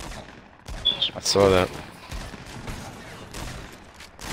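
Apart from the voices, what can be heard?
gunfire in a gunfight, from the video game Fortnite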